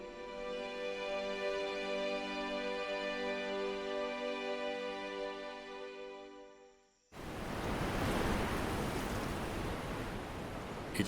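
Rough Indian Ocean surf on the east coast of Réunion Island, swollen by a distant cyclone: a broad, steady roar of breaking waves and rushing water, near and fairly loud, following a stretch of steady tonal hum.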